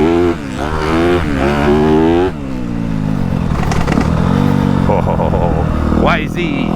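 A 2022 Yamaha YZ250F dirt bike revs and rides past close by, its engine note rising and falling in quick sweeps with a rough, buzzing tone.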